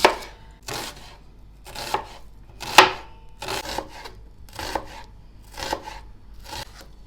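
A knife chops steadily through onions on a board, slicing them into thin strips, about nine crisp, evenly spaced strikes with no talking.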